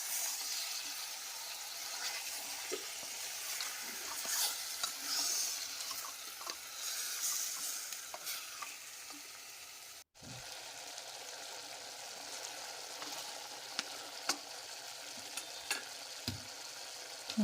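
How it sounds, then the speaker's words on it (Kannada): Mutton chops fry in oil while being stirred, a soft continuous sizzle with occasional scraping stirs and light clicks, fairly quiet and close, briefly cut near the middle, with no talking. "ಇದನ್ನು ಎಣ್ಣೆಯಲ್ಲೇ ಹುರ್ಕೋಬೇಕು ಚೆನ್ನಾಗಿ."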